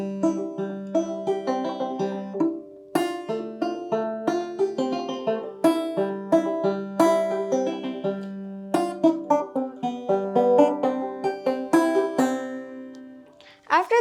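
Banjo picking the fiddle tune Liberty from tablature, a steady run of bright plucked notes with ringing strings, played solo and close for the whole passage.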